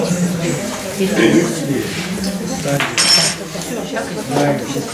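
Spoons clinking against dishes while tea is being prepared, a scatter of light metallic taps and clatter running under continuous close speech.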